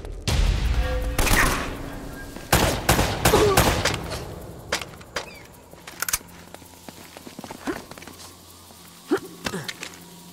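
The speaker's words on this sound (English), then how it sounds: "They're shooting at you too, you know." Scattered bursts of gunfire and sharp cracks in a firefight in the video game Uncharted, several shots clustered early then sparser impacts, heard alongside ambient game sound.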